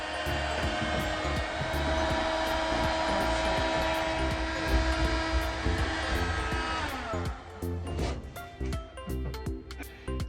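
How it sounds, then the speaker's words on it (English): A small heat gun blows with a steady, close airy roar over van sound-dampening material, with clicks and handling knocks growing busier toward the end. "I've got a little heat gun here. I'm going to give it a try, see what happens."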